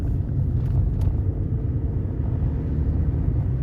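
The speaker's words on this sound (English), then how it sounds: "I love driving down these country roads" A car drives along country roads, heard from inside as a steady low engine and road rumble, continuous and fairly loud with no talking.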